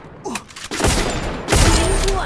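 Bursts of rapid gunfire with booming thuds from Free Fire, loud and dense, one burst midway and a heavier volley after.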